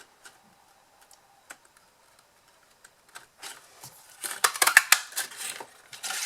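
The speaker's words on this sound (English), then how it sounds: "all you need to do is take your punch, then line it up here" A paper punch works through kraft card with scattered light clicks, then a busier run of louder crunching snaps and rattles toward the end.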